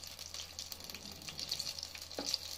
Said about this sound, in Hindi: मैं इधर फ्राई करके दिखा रही हूँ